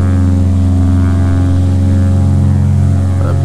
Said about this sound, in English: Let's set this thing for takeoff.